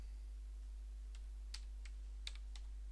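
Quiet keystrokes on a computer keyboard while writing HTML code, a few sparse, light taps clustered near the end over a faint steady hum, no voices.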